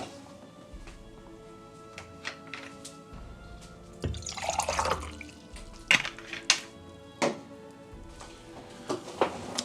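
Water being poured for a drink splashes and trickles into a glass nearby, with clinks and drips, near a sink with a faucet, under a faint, steady background.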